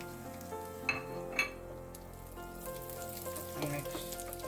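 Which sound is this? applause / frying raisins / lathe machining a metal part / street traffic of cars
frying raisins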